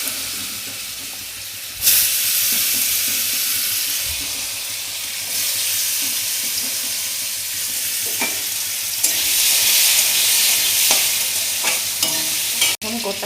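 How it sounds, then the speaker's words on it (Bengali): Chopped potatoes fry and sizzle in a pan of hot oil with chilli, bay leaf and five-spice, a loud steady hiss that swells as they go in, with stirring clatter throughout and no talk. "এবার কুচিয়ে রাখা আলু দিয়ে দেবো।"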